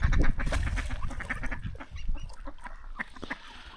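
Ducks and geese gather on a riverbank, quacking and honking steadily in a busy, overlapping chorus close by, with no talk over them.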